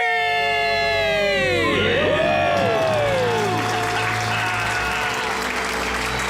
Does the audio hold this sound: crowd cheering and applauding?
yes